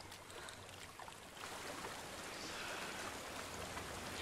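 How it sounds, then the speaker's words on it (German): Waterfall in the video game Hellblade: Senua's Sacrifice, a steady broadband rush of falling water that swells slightly louder after the first second and holds evenly, with no voices. "da ist ein Wasserfall"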